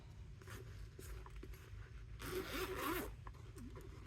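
A zipper is pulled along the top section of a small dollar-store bag in a few quick, scratchy runs, close and clear against a low background hum, with no talking.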